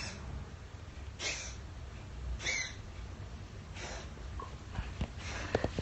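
A cat coughing and hacking from swallowed fur, giving several short snorting, wheezy bursts spaced a second or so apart, close and fairly quiet indoors with no one speaking.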